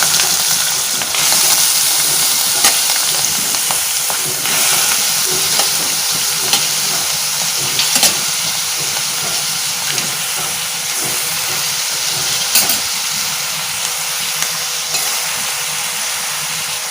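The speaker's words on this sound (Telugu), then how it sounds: "కట్ చేసి పెట్టుకున్న ఆనియన్స్ వేసేసుకుందాం" Chopped onions sizzling in a hot pan, a loud steady frying hiss with occasional stirring scrapes and crackles, continuous throughout with no voices.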